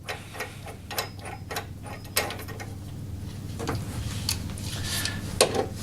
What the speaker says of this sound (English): Tighten it back up with your 16mm socket